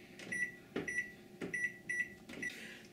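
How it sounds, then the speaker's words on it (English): A kitchen timer on a stovetop cooking setup beeps in a steady sequence of short, clear electronic tones, four or five bursts evenly spaced over a few seconds with soft kitchen clatter underneath. "So I'm going to set my timer."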